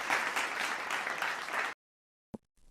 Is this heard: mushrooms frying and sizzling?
no